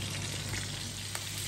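Steady, dense sizzling of food frying in a hot pan, continuous and close with no pauses.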